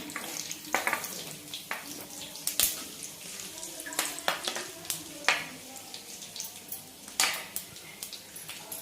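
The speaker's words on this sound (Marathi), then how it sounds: "जिरे छान फुलू द्यायचे एकदम" Cumin seeds crackling and sputtering in hot oil, a steady sizzle broken by frequent sharp pops, close and clear, with faint background speech.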